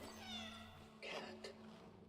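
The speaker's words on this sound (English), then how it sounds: "Cat." A cat meowing in Cronos: The New Dawn, one drawn-out meow followed by a short second call, close and fairly soft over a low steady hum.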